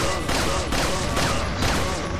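Rapid bursts of gunfire in the video game Resident Evil 4, dense overlapping shots repeating through the short clip at a fairly even level.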